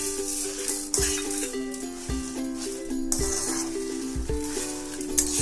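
Chana dal, urad dal and dried red chillies fry in a pan, giving a light continuous sizzle punctuated by occasional clinks and stirring knocks, with a steady tonal hum beneath.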